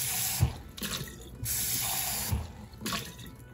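Water from a tap splashes and sloshes in bursts as a paint water cup is rinsed at a sink, several separate pours and swirls close by with no talk.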